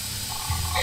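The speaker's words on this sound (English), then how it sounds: "Just spray her with blood." A loud, steady spray hiss from the point-and-click game Rizzoli & Isles, with blood being sprayed at a crime scene, continuous and close, swelling slightly toward the end.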